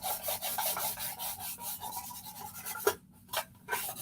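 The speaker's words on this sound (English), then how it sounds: "Do I have to like really, really sand it or just kind of rough it up?" Steady back-and-forth rasping of sanding on wood, close and rhythmic, breaking off briefly near the end before resuming.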